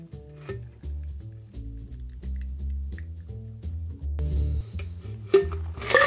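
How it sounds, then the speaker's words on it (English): Strawberry cocktail drips and trickles from a shaker through a fine sieve, held back by ice and strawberry bits, a soft, steady wet pour heard under prominent background music. "fine strain out the chunks of ice and strawberry"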